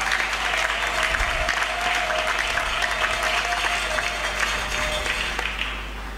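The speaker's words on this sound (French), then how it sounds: "Est-ce que vous pouvez m'aider à bien acclamer?" A church congregation applauding loudly and steadily, a dense wash of many hands clapping that fills the whole stretch, tapering slightly at the end, with a faint tone ringing underneath.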